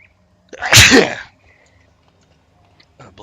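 A single loud sneeze bursts out close by, followed by near silence with faint background hum.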